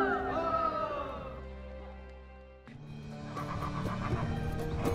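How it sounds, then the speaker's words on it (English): A Karabakh horse, the breed used in Azerbaijan's chovgan, a polo-like sport, whinnies loudly and close up in a long falling call, then snorts and shifts amid outdoor noise. "this particular horse, the Karabakh horse, is the national symbol of Azerbaijan"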